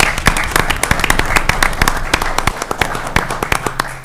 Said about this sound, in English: So, William, you deserve a round of applause